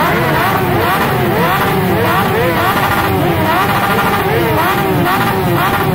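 Motorcycle engines, including a Suzuki V-Strom, idle and rev in a stopped group during a Christmas charity ride in Madrid, a steady loud rumble with rising revs under crowd babble.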